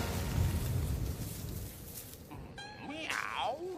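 A French cartoon character lets out a high, wavering cat-like meow near the end, following a noisy stretch of background sound; a voice imitates a cat.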